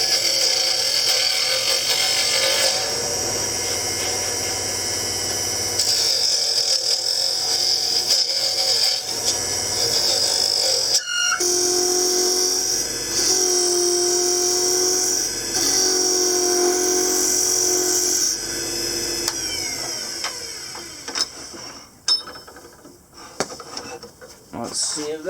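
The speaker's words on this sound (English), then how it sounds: "now we got to sharpen." A woodturning tool being sharpened on a grinder, a steady close high whine with shifting grinding tones that runs throughout, under some talking.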